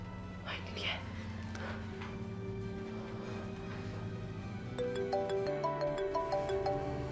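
An unanswered phone call rings with a repeating electronic ringtone pattern that starts partway through, while people talk underneath.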